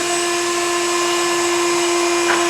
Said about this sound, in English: it'll drill the hole points for every belt attachment that we offer